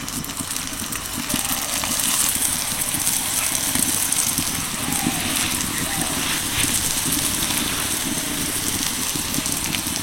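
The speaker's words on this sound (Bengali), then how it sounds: "এবার এগুলোকে শ্যালো ফ্রাই করে নেব।" Snacks shallow-frying in a little white oil on a hot flat tawa give a steady, crackling sizzle, fairly close and continuous throughout.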